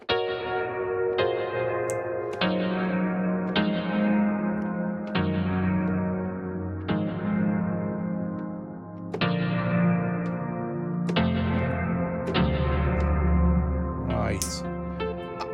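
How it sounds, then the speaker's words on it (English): Sustained synth tones through the Liminal Space 2 digital reverb, with a long, endlessly ringing infinite reverb tail, each new note swelling into a dense wash that never decays. "you can just do infinite reverb"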